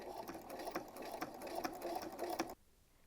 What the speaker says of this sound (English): I'm just going to do a regular straight stitch right in that groove there